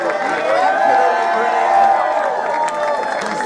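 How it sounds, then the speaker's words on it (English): A drag show audience at a cancer fundraiser event cheers and whoops in a sustained, loud crowd roar with scattered applause and shouted voices throughout. "Please give her another big round of applause."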